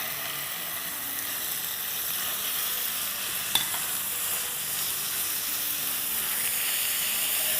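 Chicken thigh mince sizzles in a pan with onions and gets stirred, a steady close frying hiss broken by one sharp scrape of the spoon, with no voices.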